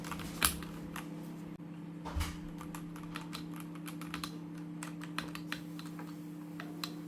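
Typing on a DK Ultra 82 mechanical keyboard, a quiet run of close, soft, rounded key clacks at an uneven rhythm over a faint steady hum.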